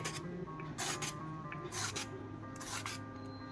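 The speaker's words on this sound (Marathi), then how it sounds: "सुरुवातीला मी साल काढून घेते" Peeler scraping skin off a bottle gourd in a home kitchen, a series of short rasping strokes repeating at a steady rhythm, close and fairly quiet with no talking.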